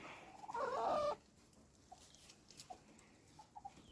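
Free-range village hens cluck in a short loud burst, then a few soft, scattered clucks follow over a quiet outdoor background.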